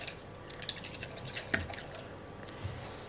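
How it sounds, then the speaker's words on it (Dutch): Flower bulb roots are swished in a small bowl of water, giving soft scattered drips and light trickles at close range with no speech. "kan je nog even met een bakje water eventjes de worteltjes afspoelen"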